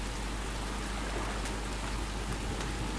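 Steady, dense video game rain hissing and pattering on a surface, constant and moderately quiet with no voices.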